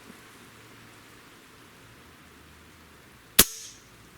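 Hatsan Galatian air rifle fires once after its trigger is pulled against a Lyman trigger gauge: a single sharp, loud, quiet-rifle crack with a brief ringing tail, preceded by a faint background hush and no talk.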